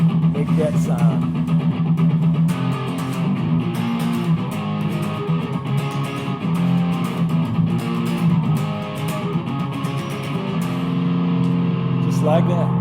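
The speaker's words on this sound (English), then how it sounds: "Lightly hold the strings, all the strings. Strum all the strings if you want, or the top two. Sounds like a freight train." Electric guitar with distorted tone, strings lightly held and strummed to produce a muted, chugging scratch, played continuously and loud with a steady driving rhythm.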